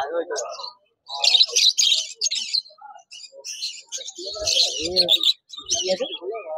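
Caged finches, including Bengalese and zebra finches, chirp and tweet in bright rapid bursts at a busy bird market, with people talking close by between and over the calls.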